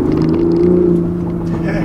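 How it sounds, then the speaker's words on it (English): A 2020 Toyota GR Supra accelerates hard in third gear from about 30 mph, its engine droning steadily with a strong low tone as the wheels break loose, close and loud throughout. "Third gear at 30 miles per hour, just spooling up and breaking them loose."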